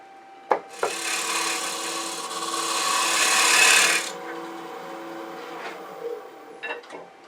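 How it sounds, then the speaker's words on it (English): A conventional bowl scraper cuts against a spinning dogwood bowl on a lathe, giving a loud sustained rasping scrape for several seconds, framed by a few knocks and quieter scraping touches near the end. "Now I'm going to use a conventional bowl scraper to kind of clean this up a little bit."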